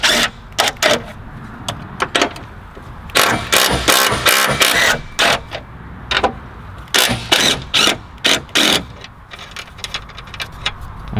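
A wrench working the 15mm top mount nuts off a Mitsubishi EVO 5 during a BC Racing coilover install, with rapid bursts of sharp metallic ratchet clicks repeating close and loud, alone without talk.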